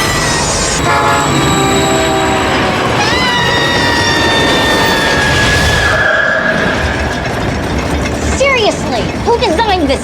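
A converted subway car runs loud and close with rumbling wheels, metallic squeals and a long horn-like tone, while voices chatter and shout over the noise.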